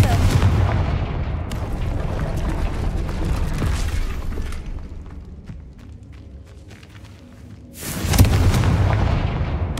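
A Confringo fire spell explodes in a wizarding video game, with several heavy booming blasts at the start and a loud burst near the end over a steady rumbling game backdrop.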